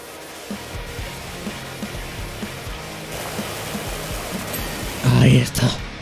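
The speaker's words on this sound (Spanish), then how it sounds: "El sonido del agua junto con la imagen esa que ves así como del vapor, o sea, el agua vaporizada que se va" A pressure washer spraying water in Powerwash Simulator gives a steady, even hiss that runs throughout, with a person talking over it and a brief louder swell near the end.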